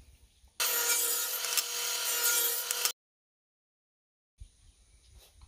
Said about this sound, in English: This is a cheap table saw.